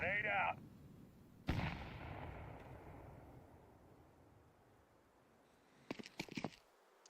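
A grenade blast booms in Counter-Strike 2, its rumble trailing off over several seconds, followed by a quick burst of gunfire cracks; a player talks briefly at the start.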